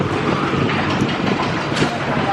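A train rolls past, a dense steady rumble and rattle of railcars with faint clicking of wheels on the track, loud and continuous for the whole stretch.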